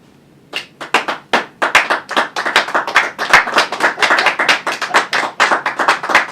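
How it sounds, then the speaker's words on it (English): A small group claps close by, a brisk string of distinct hand claps that starts after a half-second pause and quickly builds into loud, uneven applause. "Insert applause here."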